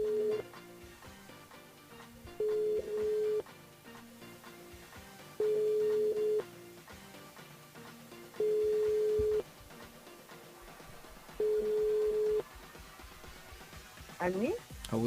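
Telephone ringback tone on a call to a radio listener, a steady beep repeating about every three seconds, five or six rings heard faintly over a low background before the line picks up.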